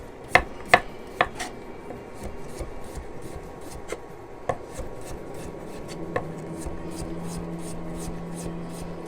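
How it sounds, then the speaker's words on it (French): A knife chops a pumpkin into large chunks on a board, several sharp thuds early, then lighter scattered cuts and scraping, close up. "Allez, on va se les couper en morceaux assez gros."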